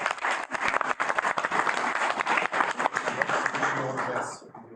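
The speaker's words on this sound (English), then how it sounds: "I think she does need a round of applause." A council meeting audience applauds the outgoing mayor, with uneven clapping of varying density that fades out near the end, and speech mixed in.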